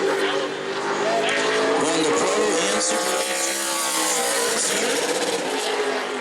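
Brad May's number 9 super late model race car runs at New Smyrna Speedway, a loud continuous engine roar with shifting pitch that stays steady throughout, with a commentator talking over it.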